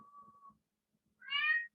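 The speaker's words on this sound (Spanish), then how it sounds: "mi gato llora" A house cat meows once, a short, clear, crying call close by, following a faint hum and a moment of near silence.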